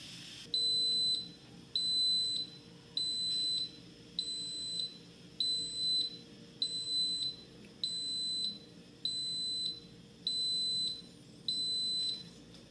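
An Instant Pot Duo Mini electric pressure cooker gives a steady series of about ten high-pitched electronic beeps, evenly spaced roughly once a second, ringing clearly over a quiet background hum.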